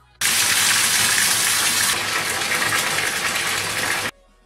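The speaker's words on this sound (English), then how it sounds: "If I run a bath" Running water fills a bathtub in a loud, steady gush that starts abruptly, holds for about four seconds, then cuts off, alone with no talk.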